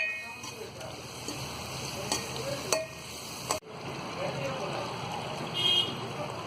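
Egg biryani masala gravy with curd and salt is stirred and fried in a pan. A low, continuous sizzle runs beneath scattered clinks of the spoon, with one sharp knock partway through.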